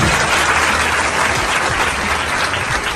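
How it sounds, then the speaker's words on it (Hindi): A large audience at a UPSC batch celebration event applauds loudly and continuously, a thick, close wall of clapping with no break. "जोरदार ताली।"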